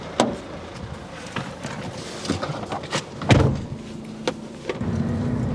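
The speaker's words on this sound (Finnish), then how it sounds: "Mä tykkään ajaa autolla." A Peugeot Partner van driving, with a steady engine and road hum running throughout, punctuated by clicks, knocks and a louder thump midway, heard close from inside the cabin with no talking.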